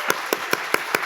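Clapping in a church Friday prayer meeting in honour of the young adults: five sharp, evenly spaced claps in quick succession, crisp and fairly close, with no talking.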